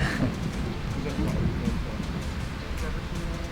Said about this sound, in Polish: Oj, burza. Burza.